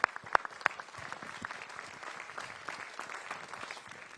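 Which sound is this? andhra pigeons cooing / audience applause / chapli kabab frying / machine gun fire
audience applause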